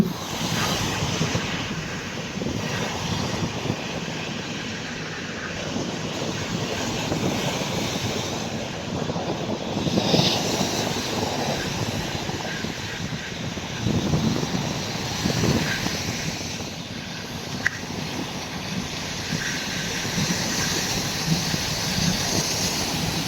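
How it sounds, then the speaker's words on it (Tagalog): Strong sea waves crash during a typhoon, a loud continuous roar of surf mixed with heavy wind buffeting the microphone, with surges rising and falling over the steady wash. "Grabe yung lalakas ng alon ngayon, oh."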